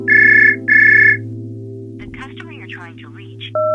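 A phone call to a mobile goes unanswered: two long, steady ringback tones repeat under a constant low hum, followed by a burst of talk and a short beep at the end.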